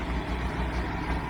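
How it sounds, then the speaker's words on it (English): Massey Ferguson 1105 tractor engine running at a steady idle, a deep low rumble with a continuous throb, close and fairly loud with no voices. "there's the mighty 1105 Massey Ferguson, wonderful tractor"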